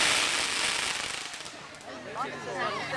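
Fireworks burst over Lake Wylie, giving dense crackling pops at a moderate distance. Whistling, swirling effects rise near the end, and people chat over the display.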